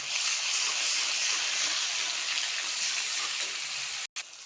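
Ginger garlic paste frying among browned onions in hot oil gives a steady, close hissing sizzle that runs unbroken, cut by a brief gap near the end, without speech.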